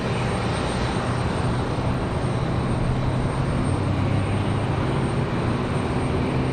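A Boeing 787 Dreamliner departs Raleigh-Durham International Airport bound for Paris, its jet engines a loud, steady broadband roar that holds evenly without a break.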